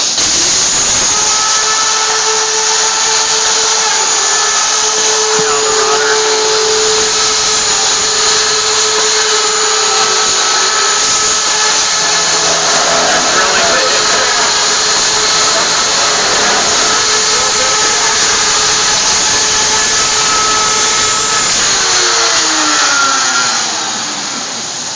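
A WISE 8800 machine drills door hinges with a steady, loud whir and hiss that holds for about 23 seconds, with faint mechanical clatter mixed in before it winds down at the end.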